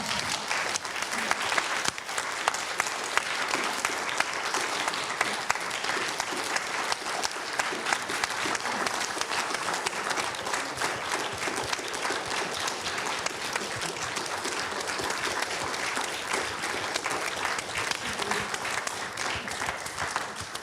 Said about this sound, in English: we have a really loud round of applause